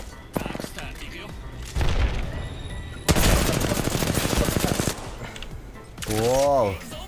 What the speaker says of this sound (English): R301 is one of the most satisfying weapons in Apex.